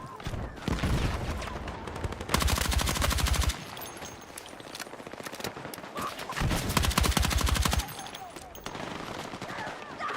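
Heavy gunfire in the Battlefield 6 video game, loud sustained automatic bursts and rapid shots, with a voice talking over parts of it.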